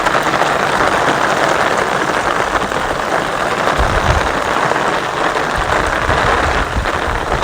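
Monsoon rain falls over a Gujarat village as a loud, unbroken wash of noise, with deep rumbling gusts swelling in the second half.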